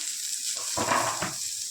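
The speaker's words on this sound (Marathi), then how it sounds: "तव्यामध्ये कांदा टाकूया कांदा भाजून घ्यायचा आहे आपल्याला" An onion on a hot griddle gives a short burst of sizzling over steady background hiss, swelling then easing, with no talk.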